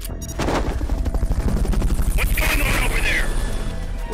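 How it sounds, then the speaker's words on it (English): Automatic gunfire in Metal Gear Solid: Peace Walker, a loud continuous rattle of rapid shots with a helicopter-like drone and alert music, voices talking underneath. "Someone's firing at us."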